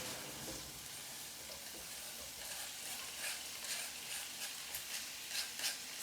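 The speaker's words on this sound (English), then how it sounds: "You want to cook your kimchi until it kind of like gets a little transparent" Kimchi fries quietly in a pan, giving a soft, steady sizzle with occasional stirring scrapes, faint and close up.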